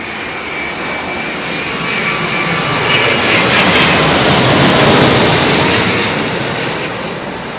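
An airliner passes overhead on arrival to runway 27L at London Heathrow, a loud, broad engine roar that swells to a peak in the middle and slowly eases off, with no voices.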